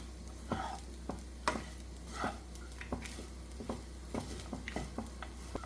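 Okra rice with coriander leaves is stirred in a pan, giving a soft steady sizzle broken by scattered scraping and tapping strokes of the spoon, close up with no talking.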